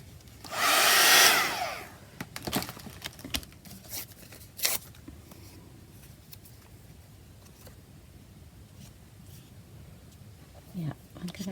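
A heat tool or dryer blows on a collage tag in a short loud burst of airflow near the start, followed by light handling and rustling noises with a voice talking.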